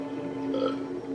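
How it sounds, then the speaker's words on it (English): A burp sound effect in a film scene, one drawn-out, low belch lasting about a second, loud and close. "the guy with the burp sound effect, you can let up on the burps now"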